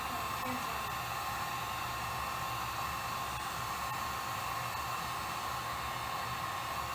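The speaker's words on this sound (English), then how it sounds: "I got a heat gun." A heat gun blows constantly with a steady, loud airy roar and a faint whine, unchanging throughout.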